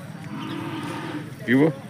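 Buffalo and cattle at a livestock market, with a single short moo near the end rising over steady crowd murmur and a background voice.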